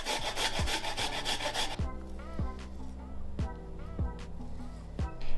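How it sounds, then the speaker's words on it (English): Peeled ginger rasped against a zester in a kitchen: coarse rhythmic scraping strokes, continuous at first and then breaking into separate pulls about every half second, close and fairly loud. "We're going to go ahead and grate some ginger."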